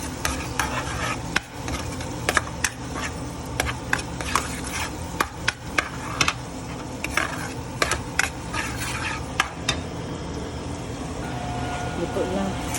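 Butter garlic shrimp sizzling in a pan under a steady frying hiss, with frequent clinks and scrapes of a utensil stirring against the pan, close by; a voice speaks faintly at times.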